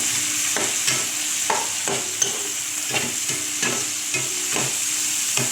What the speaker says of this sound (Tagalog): Ginisa ko na po ang sibuyas